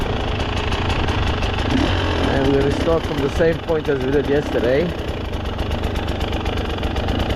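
Warmed-up KTM 300 TBI two-stroke dirt bike engine idling in a steady, close burble while someone talks over it.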